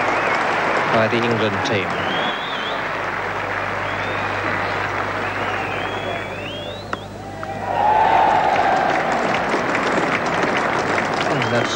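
A cricket crowd at Lord's during an England v India Test in 1982 applauds a last-wicket single, a steady rippling clapping that swells again near the end beneath a commentator's voice.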